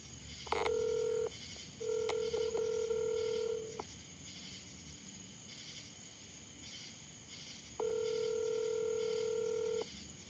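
Telephone ringback tones sound in long steady beeps with gaps between them, fairly clear over a faint background hiss and chirping insects.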